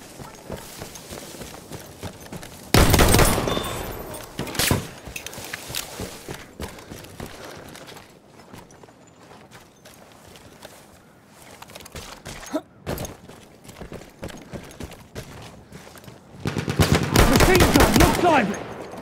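Machine gun fire rattles through a video game team deathmatch in rapid bursts, loud and close around three seconds and again near the end, with scattered single shots and quieter mechanical clatter between.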